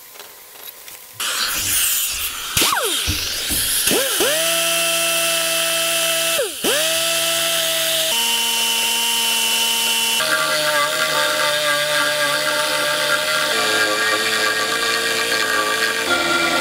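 A power tool grinds on a thick cast mill motor part, spinning up with a high rising whine, then steadily grinding in long sustained passes with brief pauses and pitch shifts.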